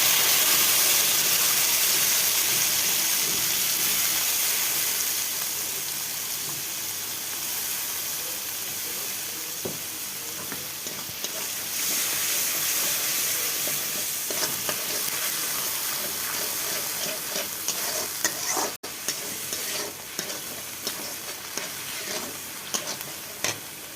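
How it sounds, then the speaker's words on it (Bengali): Spices including black cumin sizzle in hot oil for a Bengali fish curry with taro, a loud, steady, close frying hiss that runs throughout, with occasional stirring clicks and scrapes and no voices. "তেলের মধ্যে দিয়ে দিচ্ছি মশলা করতে।"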